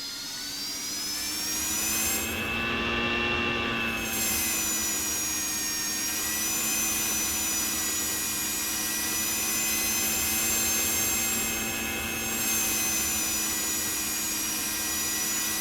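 A Harrier AV-8B's jet engine whines at a steady idle during taxi in the Falcon 4.0 BMS flight simulator, with loud continuous turbine tones that hold level throughout and brief shifts in the high hiss.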